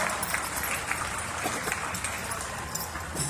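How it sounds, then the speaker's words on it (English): A crowd at a Florida State Fair heavyweight horse pulling contest claps in a brief, moderately loud burst of applause with scattered sharp hand claps. "Give them a round of applause."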